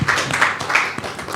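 At a World Environment Day event on plastic pollution, an audience breaks into applause for a woman who asked a question, a brief burst of close, crisp clapping with uneven hand strikes, fairly loud and fading slightly toward the end.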